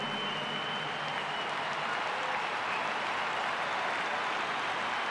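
A large crowd of patriots applauds at a memorial for Charlie Kirk. The clapping is dense and continuous, holding at an even, loud level throughout with no gaps.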